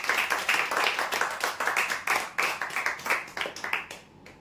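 A crowd claps for winners of a spraying pump in a prize draw, a steady run of dense handclaps throughout that thins out toward the end.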